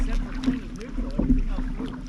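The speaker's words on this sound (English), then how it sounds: "That's probably very good paddling." A kayak paddle dips into the water a couple of times, giving soft splashes and swishes over steady wind noise and a low hum.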